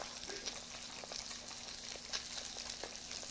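Seasoned salmon frying skin-side down in a pan to crisp the skin, making a soft, even crackling sizzle with scattered pops, fairly quiet and close.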